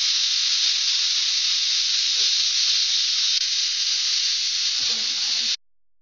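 Steady pressure-cooker hiss of steam venting while mutton cooks with a little water added, a loud continuous bright rush holding for about five seconds before cutting off abruptly, with faint clinks beneath.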